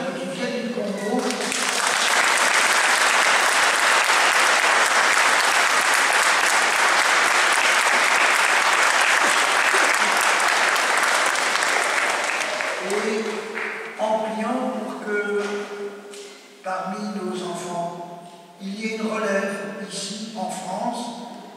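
A church congregation during Holy Week claps loudly and steadily for about ten seconds, then the applause fades as a voice starts speaking.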